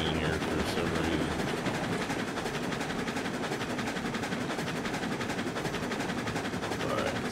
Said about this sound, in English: Sounds like the train accelerates in here for some reason.